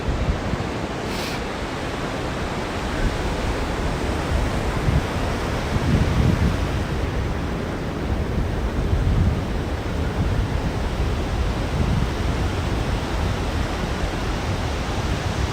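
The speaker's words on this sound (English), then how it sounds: "just loving the perpetual sound of the sea" Steady, continuous roar of sea surf breaking on Samurai Beach at sunrise, a broad unbroken wash with gentle swells in intensity, no voices.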